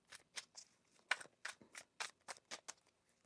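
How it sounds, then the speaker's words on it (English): Tarot cards shuffled by hand in a quiet room, a run of about a dozen crisp papery riffles and slaps in an uneven rhythm, close and fairly soft with no talking. "One more shuffle here."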